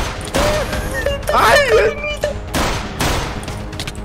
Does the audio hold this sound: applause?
no